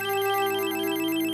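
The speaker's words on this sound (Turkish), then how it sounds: "Kimin telefonuysa açsın arkadaşlar." A home landline telephone rings with a sustained electronic bell tone, loud and close, filling the whole moment alone.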